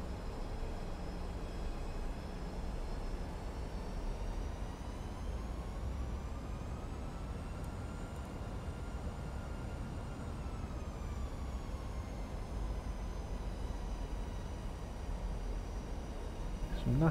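A Ryanair airliner landing on runway 23 at Exeter Airport, with a steady, dense roar of engine and airflow and faint whining tones held throughout.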